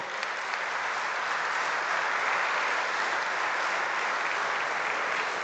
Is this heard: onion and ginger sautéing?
no